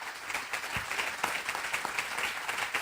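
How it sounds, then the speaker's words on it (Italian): Friends of Palau applaud in greeting to the mayor of Amatrice, a steady moderate round of clapping with scattered sharper hand claps, heard at middling distance throughout. "C'è l'applauso degli amici di Palau che ti salutano, che salutano tutti gli amici di Amatrice"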